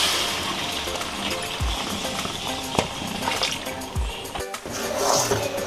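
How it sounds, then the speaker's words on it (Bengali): Water poured into a pan of sugar to make syrup, a close gushing splash with a few short spills and clinks, loud and alone. "চিনির মধ্যে আমি জল দিয়ে দিচ্ছি।"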